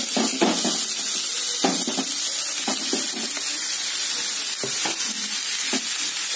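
Onions frying in a pan with bitter gourd and beans just added, a steady close sizzle broken by repeated clinks and scrapes of stirring, with no talking.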